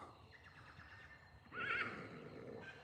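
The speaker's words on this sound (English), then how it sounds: "And the horses are going nuts." A horse, an ex-racehorse, gives a sharp, shrill whinny partway through, loud and near, after a quieter stretch of faint stable noise and softer horse sounds.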